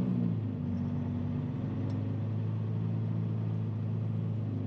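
Truck with an Eaton Cummins Endurant XD Pro automated transmission reversing slowly offroad, a steady low diesel engine rumble with a brief pitch shift at the start.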